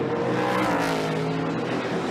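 NASCAR race trucks roar around the track during the first Truck Series race, with loud, sustained engine noise and a brief swell as trucks pass close amid spinning cars.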